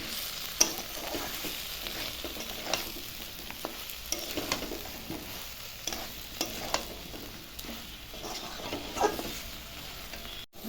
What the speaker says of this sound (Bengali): এখন সয়াবিন দিয়ে আর একটু ভালো করে সব মিশিয়ে নিব ভালো করে